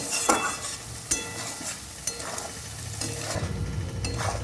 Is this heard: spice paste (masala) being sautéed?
yes